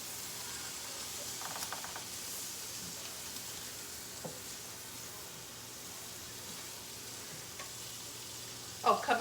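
Butter frying with lion's mane and oyster mushrooms in a pan, giving a soft steady sizzle throughout, with a few faint clinks and a louder knock of cookware near the end.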